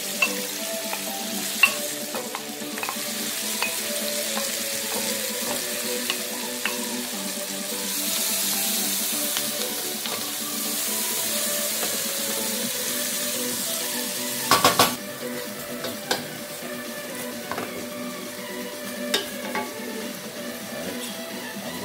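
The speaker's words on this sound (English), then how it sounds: "To fry these until they become golden brown." Onions fry to golden brown for a sweet and sour mushroom pork stir fry, a steady close sizzle with scattered stirring scrapes and a few sharp clinks of a utensil against the pan, and no talking.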